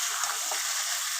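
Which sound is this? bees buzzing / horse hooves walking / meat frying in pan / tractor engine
meat frying in pan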